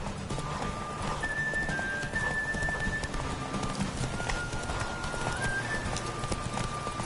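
A horse gallops in The Witcher video game, its hooves drumming in a fast continuous clip-clop over a busy game soundscape with faint tonal music, moderately loud and unbroken.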